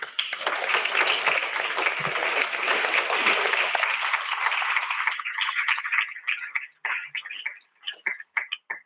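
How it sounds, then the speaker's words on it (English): A closing-ceremony crowd breaks into loud, dense applause that holds steady, then breaks up into scattered individual claps before dying out. "you all deserve again an applause"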